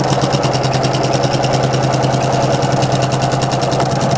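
A sewing machine back stitching a seam on a baby blanket runs with a steady, continuous mechanical whir and rapid needle rhythm, close and loud throughout with no voices.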